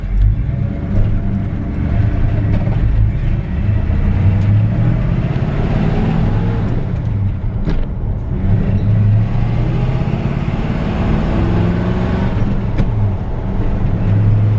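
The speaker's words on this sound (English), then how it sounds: "this has been a really good running truck." A 1966 Ford F100 pickup's 390 V8 idles cold with a deep, steady rumble, loud and close, its low throb unbroken throughout.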